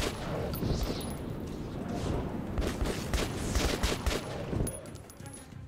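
Bursts of gunfire in the video game Metro 2033 Redux, dense, rapid shots repeated across the whole stretch, loud and close, with a voice talking over them.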